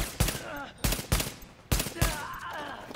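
Shotgun blasts ring out in a video game firefight, four or five heavy booming shots at irregular intervals with short decaying tails, close and loud, with faint game sounds between them.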